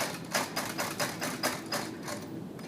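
A Juki TL2200QVP sewing machine running a long basting stitch, giving a quick rhythmic run of mechanical clacks, about three per second, close and clear with no talk.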